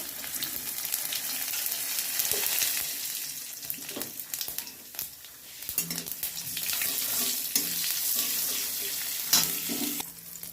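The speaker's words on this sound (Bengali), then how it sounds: "তেলটা গরম হয়ে গেছে এবার আমি গোটা জিরেটা দিয়ে দেবো" Steady crackling sizzle of whole cumin seeds frying in hot oil, with occasional scraping stirs and small pops, close and continuous.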